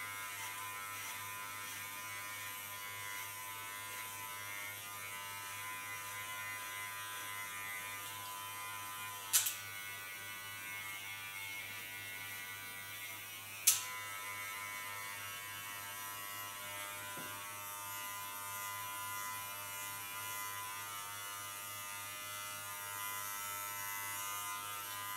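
An electric hair clipper buzzes steadily and close up while shaving a head, a constant hum running throughout with two brief sharp clicks partway through.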